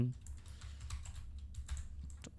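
Fingers tap out a short word on a computer keyboard, a quick run of soft close key clicks with a slightly uneven rhythm, faint against a quiet room.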